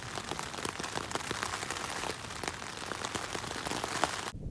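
Rain from thunderstorms drums steadily on a tent rain fly on the Pacific Crest Trail, a dense close patter with individual drops ticking through, continuous and loud, without speech.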